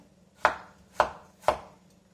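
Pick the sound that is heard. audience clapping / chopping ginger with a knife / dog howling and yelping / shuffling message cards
chopping ginger with a knife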